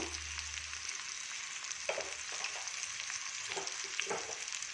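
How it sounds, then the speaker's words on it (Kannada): Ingredients for gojju frying in a pan, a steady bright sizzle with a few soft stirring scrapes breaking through. A low hum fades out early on, and nobody speaks. "ಇದು ಚೆನ್ನಾಗಿ ಫ್ರೈ ಆಗಲಿ"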